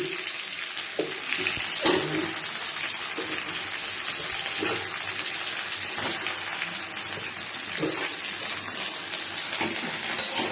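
Continuous hissing sizzle of eggplant frying in a pan, with occasional knocks and scrapes of a utensil over the steady noise.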